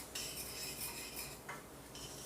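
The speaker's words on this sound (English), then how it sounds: "And now I'm going to stir this up" A utensil stirs green bean casserole ingredients of onions, mushrooms and beans in a pan, with close, continuous scraping and clinking of metal against cookware and no talking.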